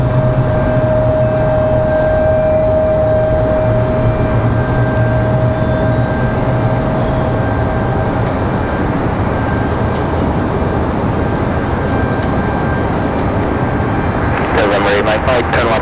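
An Aeromexico airliner arriving on runway 5 left at Raleigh-Durham airport, a steady loud jet roar with a whine running throughout, under talk.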